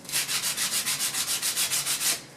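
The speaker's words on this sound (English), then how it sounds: "I am just sanding on it now to get off all the aluminum oxide layers" Rhythmic back-and-forth hand sanding on aluminum to remove oxide before welding, about a dozen even strokes, close and steady with a gritty rasp and no talking.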